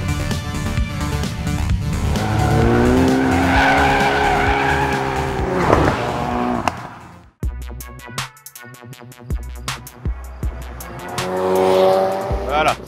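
A Ford Focus RS in drift mode slides with loud, sustained tire squeal and revving engine, followed by choppy bursts of engine and skidding; a voice talks over parts of it.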